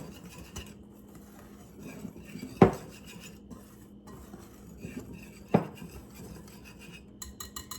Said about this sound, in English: we are just going to whisk that until it is well combined